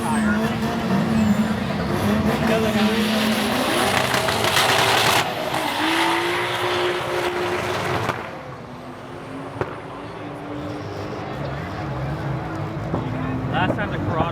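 Drag racing cars launch at an import car meet in Gainesville, Florida, tires spinning and engines bouncing off the rev limiter in a loud sustained roar that fades into the distance, with people talking over it.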